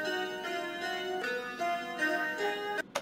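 A sustained synthesizer tone with bright harmonics steps through a few pitch changes, steady and moderately loud, then cuts off abruptly near the end.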